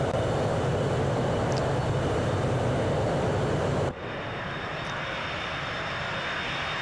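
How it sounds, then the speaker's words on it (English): An airliner passes at landing in a flight simulator, a steady loud jet engine roar that holds and then drops slightly as the aircraft goes by. No voices are heard. "I just wanted to do a quick flyby view right on landing here."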